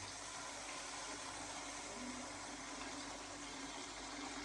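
Water is poured into a cooking pot of soaked rice, 900 grams of water onto 600 grams of rice for a chana vegetable pulao. It makes a steady, continuous rushing pour at moderate level throughout, with no voices.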